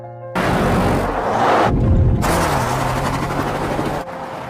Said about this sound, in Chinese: 她深呼一口气，再次一脚油门冲向了悬崖上方